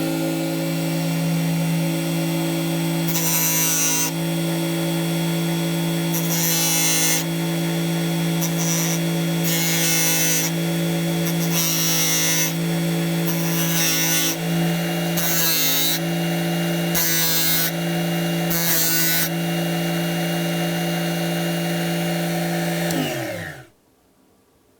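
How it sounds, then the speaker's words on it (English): A Tigers Teeth diamond wheel sharpener grinding the teeth of an oscillating multi-tool blade: a loud, steady motor whine with repeated bursts of harsh grinding as the teeth touch the wheel, ending as the machine winds down. "So let's turn it on and sharpen these teeth."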